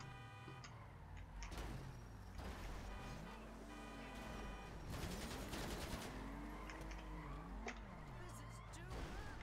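NPC gunfire erupts in a GTA Online contact mission, with rapid bursts and scattered shots over engine and vehicle noise while someone talks.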